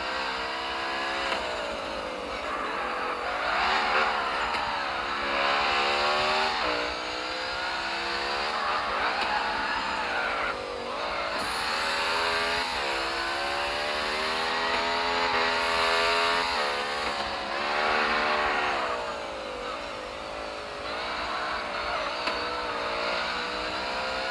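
Engines rev and whine continuously in the CarX Street racing video game, with rising and falling pitch as the car accelerates and shifts. Tire squeal cuts in at points, loud and sustained, with no talking.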